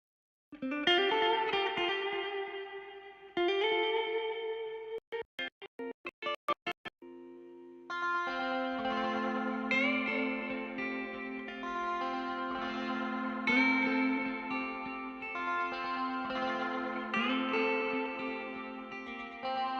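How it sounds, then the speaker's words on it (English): Electric guitar chords and notes ring out through an amp's reverb with a washy, lingering tail, including a quick run of staccato hits before sustained strumming. "I'll play the reverb tracks again"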